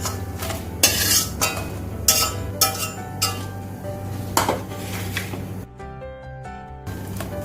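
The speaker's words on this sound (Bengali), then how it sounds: "লঙ্কাগুলো আমার ভাজা হয়ে গেছে, এখন আমি লঙ্কাগুলোকে উঠিয়ে নেব" Metal spoon scraping and clinking in a wok as fried chillies are scooped out, with light sizzling of oil beneath, several sharp clanks spaced irregularly, close and fairly quiet, no talking.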